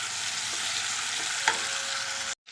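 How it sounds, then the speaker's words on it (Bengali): Potato, ridge gourd and eggplant fry in a pan with a steady close sizzle, while a spoon stirs them with a few soft scrapes and taps before the sound cuts off abruptly. "এখন ঝিঙে আর বেগুনগুলো অ্যাড করে দেবো। চলো ভালো করে একটু নেড়ে দিই।"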